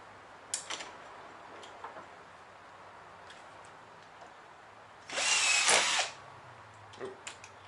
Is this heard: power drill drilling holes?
yes